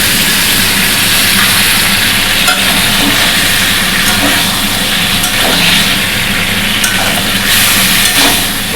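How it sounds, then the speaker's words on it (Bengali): Spices, ginger and green chilli sautéing with ridge gourd, vegetables and potatoes in a hot pan, a loud continuous hissing sizzle with occasional faint stirring scrapes, close up and with no talking. "একটু ভালো করে মশলাটা নিয়ে কষে নিই"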